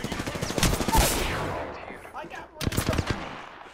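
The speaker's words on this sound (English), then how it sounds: "Opening fire on the enemy." Rapid automatic gunfire in the video game Apex Legends, dense bursts of shots that fade into quieter echoing fire, then another loud burst near the end, with voices mixed in.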